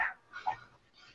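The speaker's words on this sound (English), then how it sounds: "Dog barking." A dog barks faintly in the distance, a few short, spaced yelps in an otherwise quiet room.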